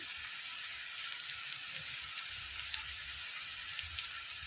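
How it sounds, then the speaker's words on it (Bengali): Nigella seeds fry in a pan with a constant fine crackling sizzle of oil, close and even, with a faint low rumble beneath and no speech. "এবার দিয়ে দেবো কালো জিরে"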